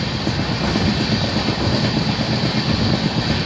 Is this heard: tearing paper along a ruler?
no